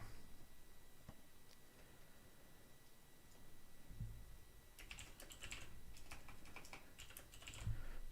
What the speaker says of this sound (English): Please excuse my gamer keyboard. It makes loud noises.